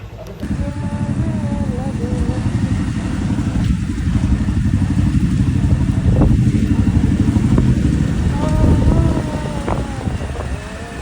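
A motorcycle engine idles and runs with a steady low rumble and wind noise, loud and close, while people talk over it during a group ride at dawn.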